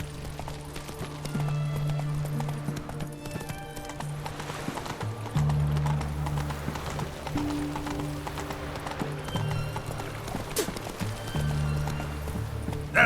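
Hooves of the horse Roach pound in a fast, steady clip-clop gallop in The Witcher 3: Wild Hunt, with occasional snorts or whinnies over a low game music bed.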